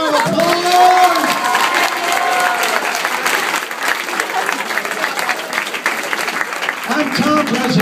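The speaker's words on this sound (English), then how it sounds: "Give our volunteers a big round of applause." Sustained audience applause with some cheering fills a high school graduation-night hypnotist show, loud and steady throughout, with voices audible over the clapping near the start and end.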